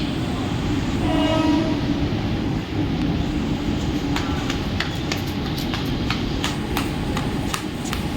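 A Mumbai local train rolls into a platform at CSMT station, a loud continuous rumble with a brief horn blast early on, then a string of sharp rhythmic clanks from the wheels and cars as it passes.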